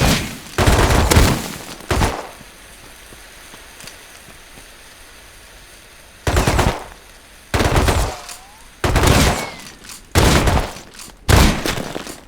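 Incendiary ammunition in the Rust video game fires in loud, sharp bursts of automatic gunfire, with several separate volleys separated by quieter gaps.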